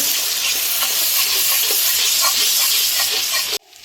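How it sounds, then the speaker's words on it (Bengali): Ginger paste sautéing in a hot pan for a chicken dish, a loud continuous sizzle with stirring scrapes, cutting off abruptly near the end. "আদা বাটা। এগুলো একটু আমি কষিয়ে নেব।"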